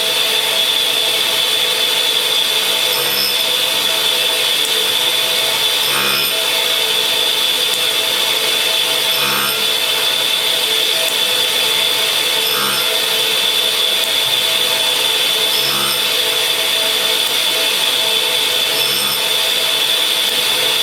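A hard cutter being ground on a freshly dressed grinding wheel: a steady, loud, high whine runs throughout, with faint rhythmic pulses about every three seconds as the cutter passes over the wheel, and no talking.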